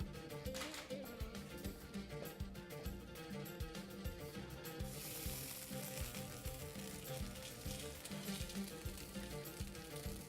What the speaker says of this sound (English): You can hear the sizzle because the plancha is nice and hot.